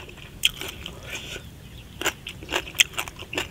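Crunchy bites into pounded Tani banana salad with squid, a spicy Thai-Lao dish eaten with fresh vegetables: several sharp, close crunches in uneven succession with chewing between them, with no talking.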